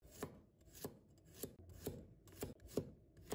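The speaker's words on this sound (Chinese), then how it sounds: "然后将它剁成蒜末" A kitchen knife chops garlic into a fine mince on a cutting board, sharp evenly spaced strikes about every half second, close and fairly quiet, with no talk.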